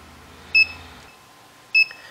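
An Arduino alarm buzzer whose rate varies with light on a photoresistor gives two short bright electronic beeps about a second apart, loud and alone against near silence.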